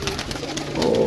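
Pigeons coo close by in a coop, a dense murmur of soft, low calls that swells slightly toward the end, with no talking.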